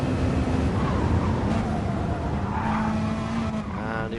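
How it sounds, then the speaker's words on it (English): Race car at the Le Mans 24 Hours, running alongside a Nissan: a loud, steady engine roar with squealing tires and a rising whine toward the end, heard alone with no talk. "The worst sounding car I've ever heard."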